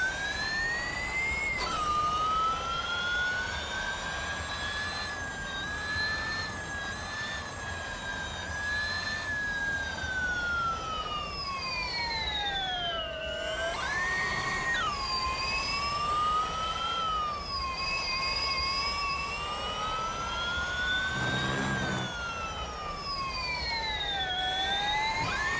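Revving race car engine in the mobile racing game Real Racing 3, a loud continuous whine rising and falling in pitch with gear changes along a long straight, steady and close throughout.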